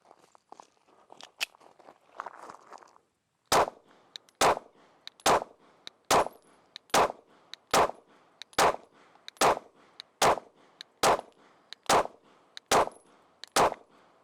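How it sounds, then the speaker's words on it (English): Polymer80 pistol fired at an outdoor pistol range during a function test, about fifteen loud, evenly spaced sharp gunshots in a steady rhythm after a few seconds of quieter handling noise, with no talking. "we're back here at the pistol range testing out our Polymer80 that we sighted in on our ransom rest the other day. We're going to do a quick functions test,"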